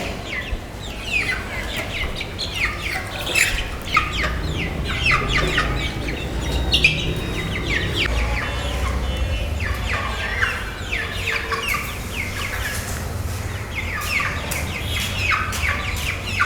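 A crowd of broiler chickens clucking and squawking nearby, eager for water, overlapping calls rising and falling over a constant low background hum.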